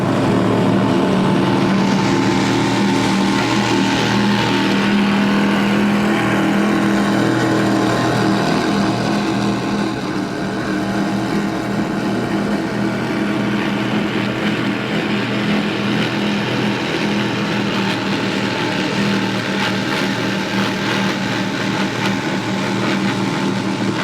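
An Outer Limits powerboat runs the course of a poker run during Emerald Coast Powerboat Week, its engines a loud, continuous roar that swells and fades slightly as it passes, with wind and water noise throughout.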